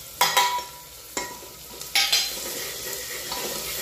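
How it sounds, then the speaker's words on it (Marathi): Onion with ginger-garlic-chilli paste sautéing in oil for an Aagri-style paya curry: a steady sizzle broken by several sharp spoon-and-pan clanks as the mixture is stirred, close and fairly loud. "कांदा जोडीला व्यवस्थित अशी परतून घ्यायची आहे"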